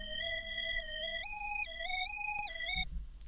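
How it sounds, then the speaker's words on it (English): A whistly synth lead from a beat, treated with a flanger at low mix, Fruity Mute and ducking, stepping through a bright repeating melody with subtle pumping, playing alone and stopping near the end. "I have a flanger with the mix turned down."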